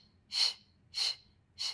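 Three slow, breathy exhalations during a Pilates session, each a soft airy whoosh about half a second long, spaced evenly and heard close up with no talk.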